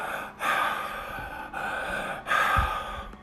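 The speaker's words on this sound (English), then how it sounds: "try to stick with it and breathe through your mouth" Deep breaths drawn in and out through the mouth during a breathing exercise, three long airy breaths in a slow steady rhythm, close and fairly loud with no talk over them.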